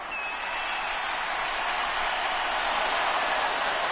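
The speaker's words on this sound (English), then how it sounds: "The crowd getting into it as we come up on a big 3rd down." A stadium crowd at a football game ahead of a big third down gives off a steady, wide roar of cheering that holds strong and even throughout, with no clear single voices standing out.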